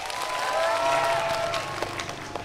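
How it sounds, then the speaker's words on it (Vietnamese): A studio audience claps together for a young student at a talk show, in a short burst of applause with some tonal music over it that tapers off. "Một tràng vỗ tay dùng cho bạn ấy nào."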